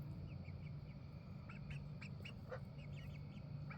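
Faint, nasal quacks from a few ducks come in short clusters over a steady low background hum, soft and somewhat distant.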